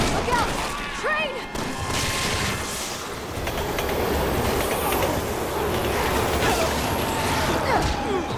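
A train roars past in Resident Evil 6, a loud, continuous rumble with rattling wheels and metallic squeals that holds steady across the whole stretch.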